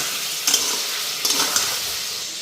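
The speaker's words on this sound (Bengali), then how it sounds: "চিকেনটা এদিকে ফ্রাই হয়ে গেছে" Chicken frying in a pan as it is stirred, with a loud, continuous sizzle up close and a few brief scraping strokes of the spoon.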